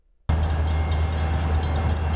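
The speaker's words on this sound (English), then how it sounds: "Trains like this have been riding the tracks at the Tamaqua train station since 1875." A passenger train at the Tamaqua station, in service there since 1875, rumbles close by with a steady, loud low-frequency drone and rolling wagon noise that starts abruptly after a brief silence and holds throughout.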